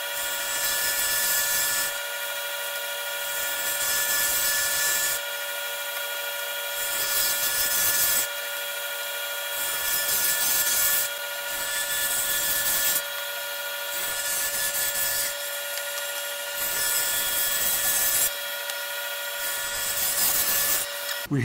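A power saw cutting long 45-degree bevels in veneer plywood strips 4.5 inches wide for a built-up column, whining in repeated passes of a few seconds each, with a steady high tone between cuts.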